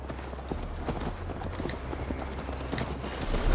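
Steady clip-clop of a horse's hooves on a ride in Assassin's Creed Valhalla, rhythmic and close over a low ambient rumble, with no talk.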